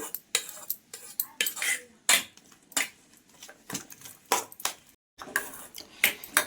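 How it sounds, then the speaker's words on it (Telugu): A spoon stirs corn masala chaat in a bowl, quick bursts of clinking and scraping metal against the bowl in an uneven rhythm, close and clear with brief pauses between strokes. "బాగా కలుపుకోవాలి."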